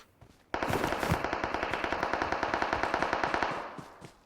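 A long rapid burst of automatic gunfire in PUBG Mobile, loud and close, rattling steadily for about three seconds before cutting off.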